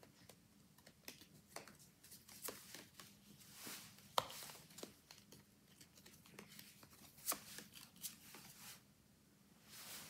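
Oracle cards being shuffled during a quiet reading, giving soft, irregular papery riffles and taps with a few sharper snaps, close and faint, with no talking.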